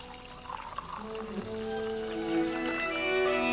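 Liquid pours steadily as energized flower essence and 40% brandy are combined into a mother tincture, a continuous trickling stream that stays fairly close and grows slightly fuller toward the end.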